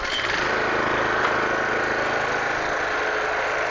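A small Toro Greensmaster 1000 reel mower engine runs steadily after a single pull-rope start, a close, continuous buzzing drone with an even idle and no talk over it.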